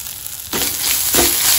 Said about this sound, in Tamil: வெறும் மிளகா சிம்மிளையும் வச்சு வறுத்துக்கலாங்க